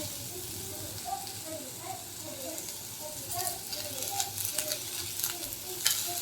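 Raw mango pieces frying in a pan with oil for a chutney, giving a steady low sizzle with scattered stirring scrapes that grow busier toward the end, while a person talks over the cooking.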